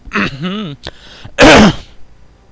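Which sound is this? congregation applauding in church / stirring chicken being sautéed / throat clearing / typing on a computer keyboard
throat clearing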